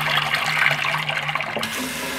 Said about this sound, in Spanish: Cómo sale el agua ahora, espectacular.